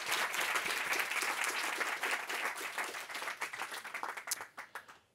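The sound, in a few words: audience applause after lectures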